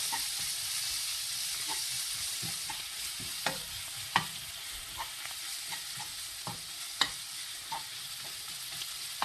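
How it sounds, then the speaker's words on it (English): Ginger sizzles steadily in a hot pan for muttar paneer, with scattered scrapes and clacks as it is stirred. The cooking is close and fairly quiet, and no one speaks. "what we're going to do is add in our ginger. Okay, and heat in that as well. I'm just going to cook that off."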